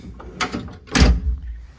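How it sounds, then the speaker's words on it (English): Door of a 1969 Datsun 2000 Roadster swung shut from inside the cabin, a short creak and then a solid, close thump as the latch catches, with no talking. "And then if we close the door,"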